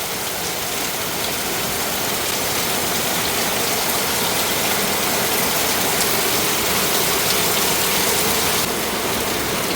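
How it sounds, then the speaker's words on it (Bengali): Rain falls steadily, a dense even patter that holds at the same level throughout with no voices. "বৃষ্টি এই থামে এই আবার শুরু হয়"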